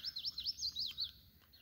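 Birds chirp in quick, high, repeated tweets, fairly faint and steady throughout, with no voices.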